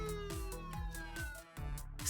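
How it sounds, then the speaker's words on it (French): Wailing police car siren from a toy or ride-on police vehicle at the San Diego Zoo, rising and falling in a steady repeating cycle of sweeps, loud and close with no talk over it. "On a la sirène."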